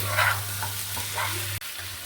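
Whole tomatoes sizzling and frying in a hot pan for a duck egg curry, a steady crackle with a low hum underneath and a brief clatter near the end.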